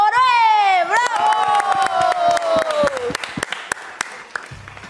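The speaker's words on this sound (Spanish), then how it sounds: "vamos a darle la bienvenida y con un fuerte aplauso al gran entrenador de la selección de menores de la selección peruana, Juan José Oroe." A studio audience at a youth TV magazine show bursts into applause and cheering for a guest, the Peruvian youth national team coach, with loud whoops and shouts over dense clapping before it thins out.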